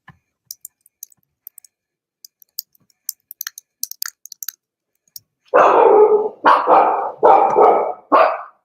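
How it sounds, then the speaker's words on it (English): Dogs bark in four loud, close bursts near the end, preceded by a scatter of light clicking sounds. "the dogs are here, guys."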